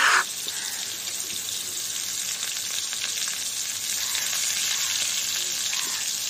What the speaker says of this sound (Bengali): এবারে আমি অল্প করে আলু ভেজে নিচ্ছি।